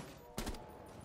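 Gunfire in Rainbow Six Siege, a single short burst of shots cracking out midway through otherwise quiet game ambience.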